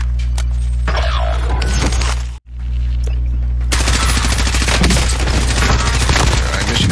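Gunfire rings out in the battle royale shooter Call of Duty Warzone, with sharp loud shots and cracks crowding the soundtrack before and after a brief dropout.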